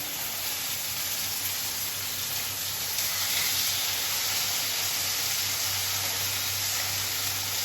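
Pork chops sear in a hot pan on an induction hob, giving a steady, loud, even sizzling hiss that runs throughout with no talk over it.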